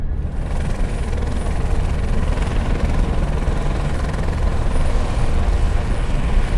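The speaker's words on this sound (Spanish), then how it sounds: "esperamos arriba con nuestro equipo a que llegara el helicóptero" An approaching helicopter's steady rotor thrum and engine roar fills the scene continuously, loud and close, with no voices.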